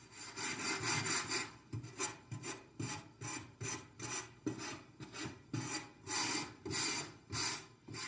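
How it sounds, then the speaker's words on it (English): Sandpaper rasps back and forth across the rough ends of a wooden board, a steady close scratching in about a dozen even strokes with no voices. "Often the edges will be a little rough, so use your sandpaper to lightly sand each end of the board."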